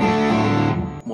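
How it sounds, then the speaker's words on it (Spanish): An electric guitar runs through a fuzz pedal set to its deepest fuzzy mode, giving one loud, thick, buzzing sustained note that fades and then cuts back in briefly. "Ahora pongo el modo fuzzy más grave."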